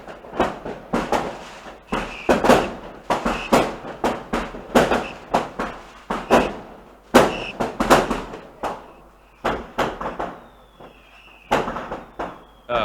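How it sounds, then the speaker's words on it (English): Fireworks going off outdoors on New Year's Eve, a dense barrage of loud sharp bangs and crackles in rapid irregular bursts, some close and some farther off. "Everyone's making fireworks and all that other"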